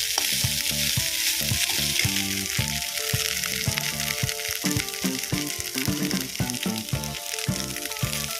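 Dried fish that was soaked in water before cooking fries in a pan for a chutney. A steady, loud, close sizzle runs throughout with crackling bursts, and no voices are heard.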